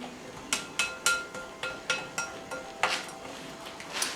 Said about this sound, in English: we're mixing everything in